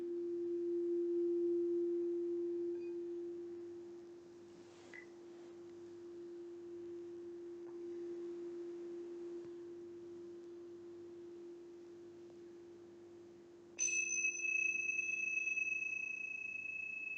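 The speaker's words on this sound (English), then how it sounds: "when you hear the bell chime" A soft bell chime sounds during a quiet restorative yoga session: a faint sustained tone fades away, then a clear chime strikes near the end and rings on with a bright lingering shimmer.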